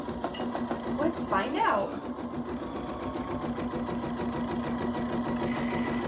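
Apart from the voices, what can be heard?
embroidery sewing machine stitching a banner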